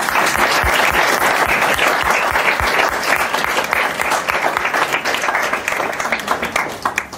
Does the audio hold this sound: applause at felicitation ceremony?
yes